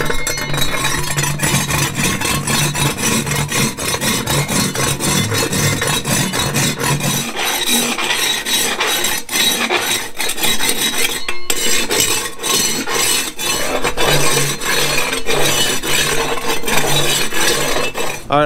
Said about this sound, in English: I've taken a hoe and I've sharpened it, and I'm just gonna see if I can scrape off that glazed on